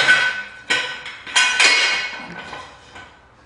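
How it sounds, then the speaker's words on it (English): Metal jack stands being set under the axle tube of a 2001-2009 EZGO TXT golf cart, heard as several sharp metallic clanks and clinks close by, each followed by a short ringing decay, with no talking. "we're going to grab our jack stands and we're going to place them underneath the axle tube on either side"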